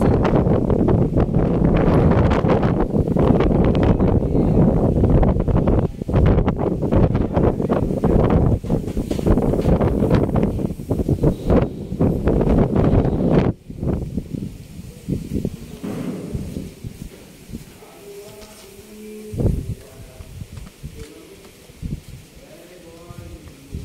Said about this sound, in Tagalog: Lakas ng hangin dito sa taas.